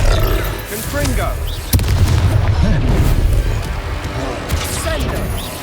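Confringo spell explosion in Hogwarts Legacy: a sharp burst followed by rumbling booms and crackling impacts amid dense combat noise, with a voice speaking over the fight.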